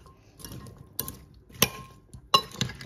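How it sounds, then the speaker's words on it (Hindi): Aloo chana chaat ingredients being mixed in a bowl, giving a few separate light clinks and taps at irregular intervals, close and fairly quiet. "अब अच्छी तरह मिक्स कर लूँगी।"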